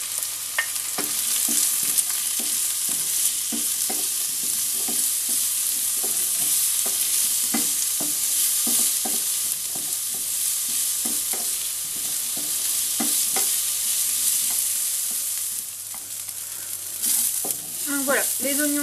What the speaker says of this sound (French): Donc je mets les oignons et l'ail et je fais revenir.